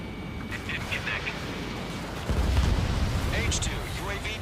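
A missile launch and blast during aerial combat in Ace Combat 7, a low rushing roar that swells into a louder rumbling boom partway through, heard beneath radio chatter and a voice speaking.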